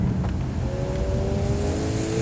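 A 2020 Lexus RC F engine drones steadily from inside the cabin while driving, rising in pitch as the car accelerates, loud and continuous with no talking.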